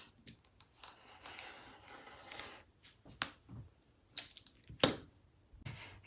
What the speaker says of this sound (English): So I'm just going to cut out the base here.